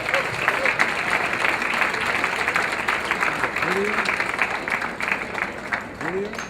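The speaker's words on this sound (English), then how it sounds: "Big round of applause." A large crowd applauds steadily and loudly, sustained clapping with a few voices underneath.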